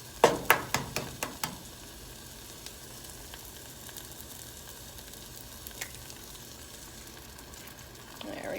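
An egg fries in a pan with mushrooms and spinach: a handful of sharp taps at the start, then a soft, steady sizzle that holds quietly to the end.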